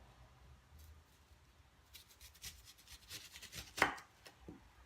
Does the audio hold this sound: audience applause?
no